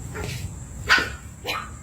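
Small dog barking twice, sharp yaps about half a second apart, fairly close over a low background hum.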